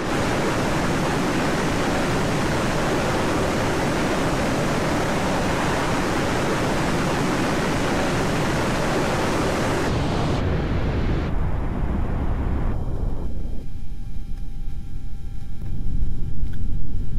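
Gazelle helicopter in flight in a flight simulator game, a loud, dense rotor and turbine roar that holds steady, then drops in steps to a duller, muffled rumble.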